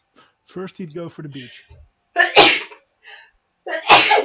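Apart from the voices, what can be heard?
sneeze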